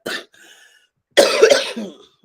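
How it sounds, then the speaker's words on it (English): A person coughs in two bursts: a short single cough, a pause, then a longer, louder fit of rough coughing close to the mic, with no speech. "I still have this cough"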